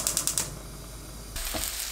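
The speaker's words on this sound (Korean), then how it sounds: "지글지글 소리 나면 중불로 낮추고 40초 볶아주세요." Garlic slices sizzle in a tablespoon of olive oil in a frying pan over high heat, giving a steady, soft crackle with a few sharp ticks at the start, close by, and no talking.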